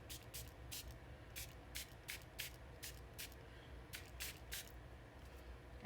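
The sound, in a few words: water spritzed onto Brusho pigment on card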